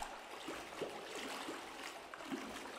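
Flowing river water in the video game Aporia: Beyond The Valley, a soft steady stream trickling and burbling at low level, with faint splashy accents, no voices.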